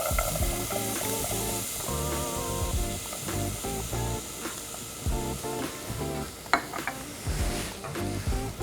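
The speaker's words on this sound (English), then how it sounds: "I'm gonna add my diced onions." Diced onions saute in oil in a pot, a steady crackling sizzle heard close, broken by occasional stirring scrapes and a sharp clack, with faint music running underneath.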